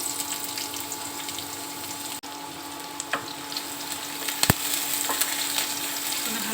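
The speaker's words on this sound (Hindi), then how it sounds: "मैंने लिया है थोड़ा सा तेल, और इसमें डाला मैंने जख्या और राई, और मैं डालती हूँ उसमें प्याज" Onion sizzles in hot oil with garlic, jakhiya and mustard seeds, a steady close frying hiss with a few sharp pops and stirring clicks of the spoon against the pan.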